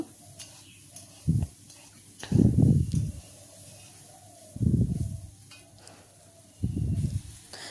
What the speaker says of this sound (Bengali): এখন আমি বটবটি আলুগুলো ভালো করে ভেজে নেব। এভাবেই নেড়ে চেড়ে আমি ভালো করে ভেজে নেব।